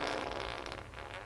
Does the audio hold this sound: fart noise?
yes